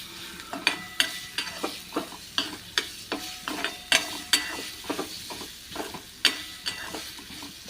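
Red chili and grated coconut chutney sautés in oil over a low flame, the spoon scraping the pan in a regular rhythm of sharp knocks over a soft sizzle, with no voices.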